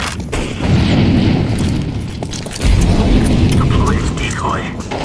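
An incendiary grenade lands and ignites in Counter-Strike 2, giving a loud low whooshing burst that roars on for a couple of seconds, then a second deep rumbling flare; game sounds and a voice sit faintly in the mix.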